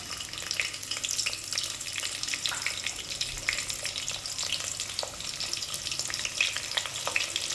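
Onions frying in oil with tempering seeds for a bottle gourd chutney, a steady close crackling sizzle with scattered sharp pops and stirring, no voices.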